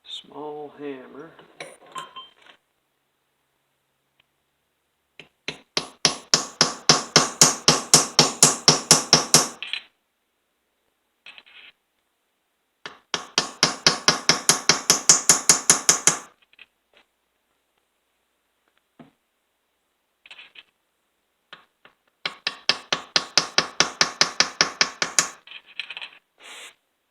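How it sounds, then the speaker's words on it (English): Three bursts of rapid, ringing metallic taps from a small hammer driving in a crankshaft seal on a Stihl MS460 chainsaw, each lasting a few seconds, with quiet gaps and brief faint sounds between them. "small hammer."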